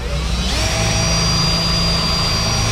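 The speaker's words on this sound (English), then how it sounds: "you drill a whole bunch of little holes" A power drill boring small holes in carbon whines continuously at close range, a high steady pitch over a rough grinding roar with no pauses.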